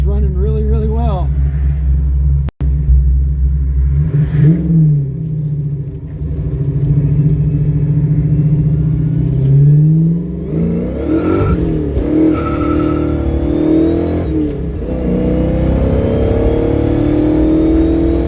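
Ford 302 V8 car engine idling with a steady low rumble, then revving up and down in several throttle blips, loud and close, with people talking over it.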